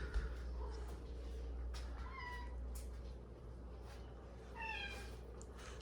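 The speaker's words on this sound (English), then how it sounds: "my cat Bolin." A house cat named Bolin meows indoors in a home office, a few short, faint mews spaced apart over a low steady background hum.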